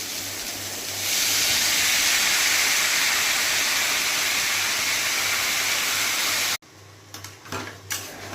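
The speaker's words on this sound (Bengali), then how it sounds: "এদিকে আমি কুমড়োর ওপর পরিমাণ মতো নুন হলুদ দিয়ে দিলাম এবং কুমড়োটা একটু ভাজা ভাজা করছি" Pumpkin pieces sizzling in a pan with salt and turmeric, a steady loud hiss of frying that ends abruptly, then faint clinks and kitchen handling.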